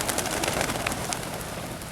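Racing pigeons released from a loft for 40 km training flights, a dense flurry of wingbeats and bird sounds, steady and fairly close, with no talk.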